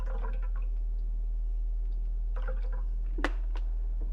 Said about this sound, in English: I'm just going to rinse it off with a little water.